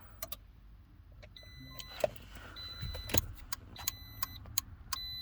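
A Toyota Matrix turn signal relay clicks in a regular, fairly quick rhythm, the sharp clicks close and moderately loud, with faint faster ticking alongside and no one talking.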